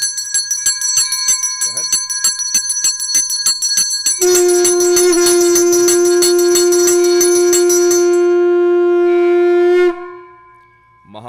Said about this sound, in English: The sound of the bells, the ghanta, wards away all negativity